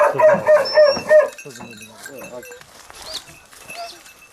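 Hunting dogs released during a wild boar hunt in oak woodland bark in a few loud nearby yelps, followed by fainter distant barking and outdoor rustle, with people talking over it.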